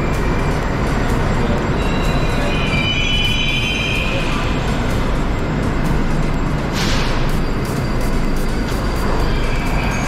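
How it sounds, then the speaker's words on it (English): Loud, constant rumble of a noisy Moscow metro station as a train passes, with steady wheel roar, squealing metal tones, and a brief burst of hiss partway through. "metro stations are always very, very noisy"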